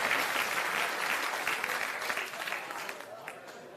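Loud, sustained applause from a seated audience welcoming the coordinator of the Jan Suraaj campaign at a youth club gathering in Begusarai district, steady clapping that fades slightly toward the end.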